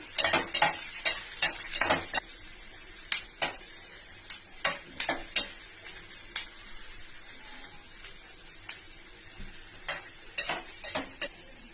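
Chopped capsicum stir-frying in a pan for veg manchurian, a soft ongoing sizzle broken by repeated sharp scrapes and taps of a spatula, irregular but frequent, with no talking.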